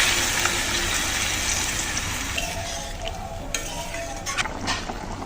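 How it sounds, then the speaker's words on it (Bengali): Water pours into a pan of sizzling potato and egg curry, a steady broadband hiss that softens partway through, with a few faint clinks of a utensil against the pan. "এখন দিয়ে দিচ্ছি জল, ডাটিটা দিয়ে জল দিয়ে দিলাম"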